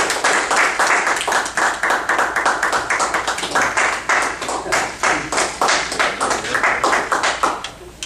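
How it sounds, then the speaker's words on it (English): An audience at a Toastmasters meeting applauds warmly to welcome the first speaker, producing dense, rapid clapping that stays loud and even throughout. "with very nice warm rounds of applause, let's welcome our first speakers"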